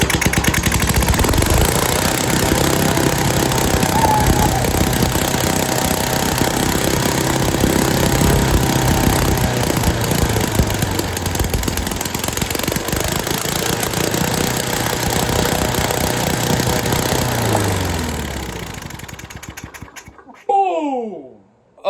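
A project car engine runs after its piston and valves were cleaned, a loud, steady, rough mechanical clatter that continues for about twenty seconds, then fades and cuts off.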